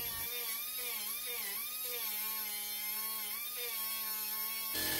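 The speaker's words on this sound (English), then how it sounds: "roller discs in an air tool," Air tool spinning roller sanding discs on bronze boat castings for carvel planking, a steady high-pitched whine with shifting pitch that runs throughout and cuts off near the end.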